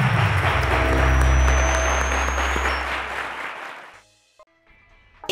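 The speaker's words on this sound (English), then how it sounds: "Ladies and gentlemen, a round of applause to them." Applause from a quiz-show studio audience at Cowbellpedia, loud at first over a low rumble, then tapering away and cutting to near silence as a jingle-like tone begins.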